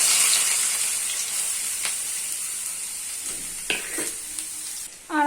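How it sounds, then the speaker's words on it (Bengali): Six large chopped onions frying in hot oil and ghee, a bright hissing sizzle that slowly fades, punctuated by a few stirring scrapes and a sharp clatter at the end. "আমরা এখানে পেঁয়াজটা দিয়ে ভেজে নেব"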